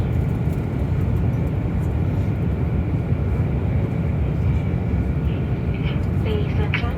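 Airplane cabin during the landing approach on a flight to Singapore, a steady loud low engine and air roar filling the space, with faint clicks and cabin noises near the end.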